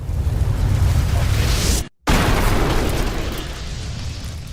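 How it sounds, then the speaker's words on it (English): A house doused in gasoline explodes in a loud, sustained roaring blast that fills the whole band, cut by a brief silent gap near the middle, then resumes as a long rumbling burn that slowly fades. "the explosion could be heard from over a mile away"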